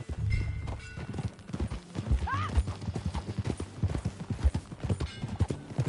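Horse hooves clip-clop in a steady, close rhythm in the Red Dead Redemption 2 video game, with a short neigh partway through and voices talking over the hoofbeats.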